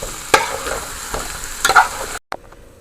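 Stuffed bitter melon (karela) filled with shrimp fries in hot oil, a steady close sizzle broken by a few sharp clatters of stirring and utensil knocks, then a brief cut near the end.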